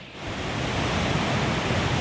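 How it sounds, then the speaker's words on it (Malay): A swollen, muddy river below Slim River in Perak, running high after heavy rain, gives a steady, dense rushing roar that starts within the first moment and holds unbroken at close range with no voices. "Dia kalau air keruh ni, air naik ni, ini bermasuk sungai daripada Slim River."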